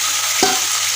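Spice tempering sizzles steadily in hot oil for okra tilari, a bright continuous hiss with one brief stir or clink midway and no talking.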